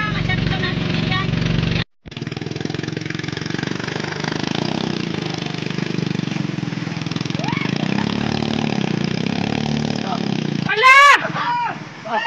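Small engines on street vendor carts run steadily with a constant mechanical drone, while people talk loudly over it and a brief sharp metallic squeal cuts in near the end.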